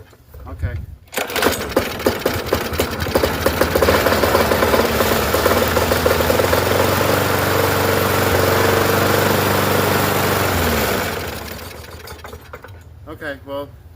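A Murray Select 4.5 hp push mower with a classic engine runs steadily at close range, rising into a loud sustained drone, then cutting off near the end.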